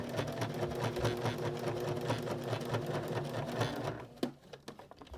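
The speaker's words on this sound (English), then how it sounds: "when you top stitch, you want to be sure you use the inside edge of your foot" Sewing machine top stitching a small fabric car freshener, a rapid steady whir of needle strokes for about four seconds, then stopping with a few soft clicks and handling sounds.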